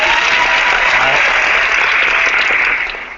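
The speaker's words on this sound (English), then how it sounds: "let me give you a little applause" Audience applause at an online associate training hangout: a dense, steady wash of clapping from many hands, loud and continuous, fading slightly at the end.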